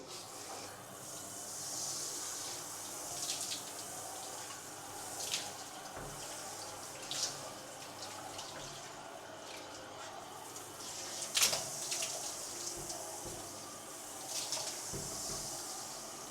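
Tap water runs steadily as something is rinsed clean during household cleaning, a soft continuous hiss broken by a few sharper splashes and clinks.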